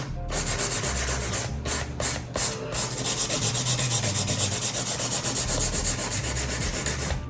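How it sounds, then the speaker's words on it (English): A nail file rasping across a fingernail in steady, close back-and-forth strokes, a continuous scratchy rubbing with a brief stutter early on and no talking. "File down, file on top, straight on top of the nail."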